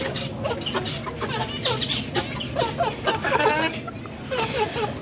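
Hens clucking inside a rain-dampened cage, steady overlapping clucks and short calls close by, with continuous busy background noise throughout.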